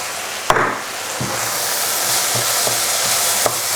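Crushed garlic frying in a pan for French onion soup, a steady sizzle with occasional sharp knocks and scrapes of stirring, close and moderately loud, no talking.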